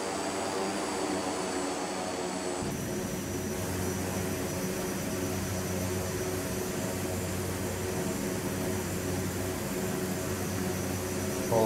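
A Royal Nepal Airlines Twin Otter propeller aircraft cruises at 11,500 feet on an IFR flight from Janakpur to Kathmandu. Its engines and airflow make a loud, continuous cabin drone that shifts slightly in tone early on, with no talking.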